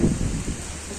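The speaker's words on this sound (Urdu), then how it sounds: "ابھی بھی بارش شروع ہوئی ہے اور یہ زور و شور سے بارش ہونے لگی ہے" Heavy rain pours down in Rahim Yar Khan, Pakistan, a dense, loud hiss of drops that is strongest at the start and continues steadily without any voices.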